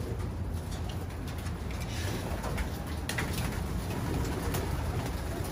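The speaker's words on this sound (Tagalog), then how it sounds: "Yan po yung mga kalapate." Pigeons sold at an auction bound for Taiwan coo steadily against a dense, continuous background of bird sounds, with no talking over them.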